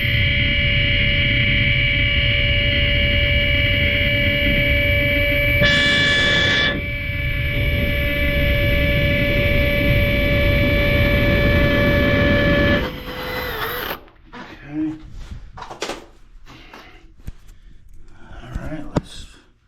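A power drill drives Tapcon concrete screws into a floor during a toilet flange repair, whirring loud and steady for about thirteen seconds with a brief pitch shift midway, then stopping, followed by scattered handling clicks and knocks.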